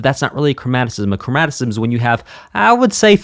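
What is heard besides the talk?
No everyday noise stands out behind the speech.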